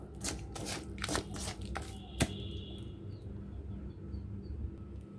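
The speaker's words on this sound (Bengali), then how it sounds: "এই যে সরিষার তেলটা অনেকখানি দিলাম। তো এটা দিয়ে আমি মশলাটা মাখিয়ে নেব।" Hands mix a spice paste with a generous pour of mustard oil for hilsa, giving soft, close, wet squishing bursts in the first two seconds and then fading to a quiet room.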